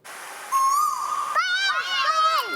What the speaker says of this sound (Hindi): कोयल है।